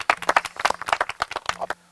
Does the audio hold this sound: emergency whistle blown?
no